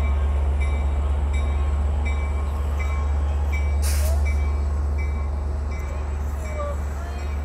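An Amtrak Capitol Corridor doubleheader passenger train with F59PHI and Siemens Charger locomotives rumbles steadily past Emeryville station with a low, heavy drone, a brief hiss of brakes midway and faint wheel squeals.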